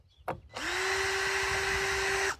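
A power drill backing screws out of a free Craftsman push mower gives a short knock, then one sustained high whine of about two seconds before it cuts off. It sounds close and loud, with no talking.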